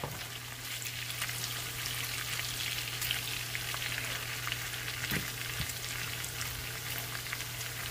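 Steady, close sizzling and crackling of bacon frying in a pan, with a low hum underneath and occasional louder pops.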